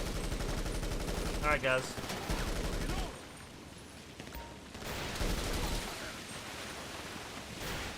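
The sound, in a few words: SMG gunfire in video game Grand Theft Auto V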